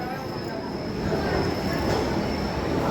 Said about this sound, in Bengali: মেট্রো এগোচ্ছে first commercial run Howrah Maidan two এসপ্ল্যানেডের দিকে